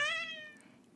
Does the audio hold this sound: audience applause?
no